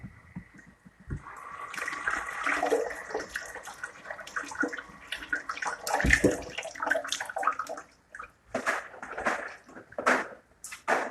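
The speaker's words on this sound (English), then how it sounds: "Give it a quick rinse." Cabbage rinsed under a cold running kitchen tap, with steady splashing and gurgling water that shifts as the leaves move through the stream for about eleven seconds, close and fairly loud, with no talking.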